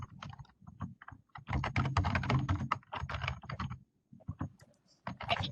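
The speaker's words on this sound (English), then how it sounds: "Not sure who's typing, but can you mute your phone?" Computer keyboard typing heard close and steady during a call, with dense bursts of rapid keystrokes, brief pauses around the four-second mark, then more clattering key presses.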